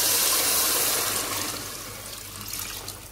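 Water poured into a cooking pot for Gujarati tadke wali khichdi, a steady close splashing gush that gradually eases in strength.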